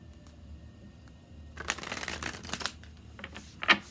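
Oracle cards being shuffled for a tarot-style reading, a quiet start giving way to a dense run of papery riffling and flicks, with a few sharper snaps of the card edges near the end.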